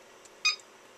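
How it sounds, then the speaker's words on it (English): A PL8/PL6 battery charger gives a single short electronic beep as it switches between charge presets, a brief clean tone in an otherwise quiet room. "you can hear the charger beep and it's switching presets"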